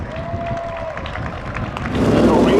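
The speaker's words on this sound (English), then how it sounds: "Let's give it one more round of applause for your 3rd place finisher" A crowd applauds the finishers of the Seekonk Speedway spectator drags. Steady clapping sits under someone talking on the public address, then swells louder and denser near the end.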